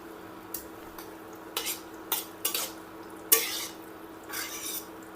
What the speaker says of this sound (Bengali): রোজ পেটেলগুলো কেমন বাবুলের মতো হয়ে গেছে।